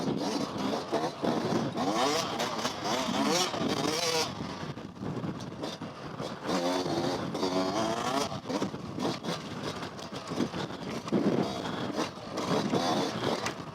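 A 2020 Yamaha YZ125X dirt bike engine revs up and down while riding through technical trail sections, a wavering two-stroke drone rising and falling in pitch with brief dips as the throttle closes.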